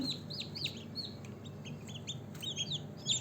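High, thin peeping calls repeat in quick bursts from newly hatched chicks close by, over a soft steady background hum from an incubator.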